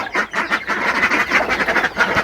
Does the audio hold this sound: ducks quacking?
yes